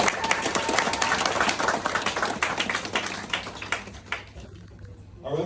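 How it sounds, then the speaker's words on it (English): Wedding guests clap together in a room, a dense spread of hand claps that starts full and thins toward the end, with a faint voice or two underneath. "Can have a little round of applause for that."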